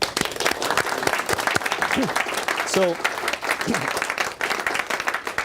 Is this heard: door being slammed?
no